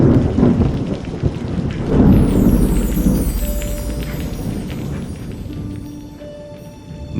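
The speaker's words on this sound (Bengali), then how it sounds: "এইরকমই একটা হাড় কাঁপানো শীতের রাত আর আকাশ ভাঙা বৃষ্টি" A thunderstorm with heavy rain: loud rolling thunder crashes near the start and again around two seconds, then fades into a continuous rain wash that softens toward the end, used as an effect in a horror story.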